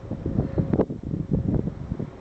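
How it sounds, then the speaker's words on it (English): Wind gusting on a cold day, rough buffeting rumble against the microphone in uneven surges and lulls, close and fairly loud, with no talking. "It's quite windy."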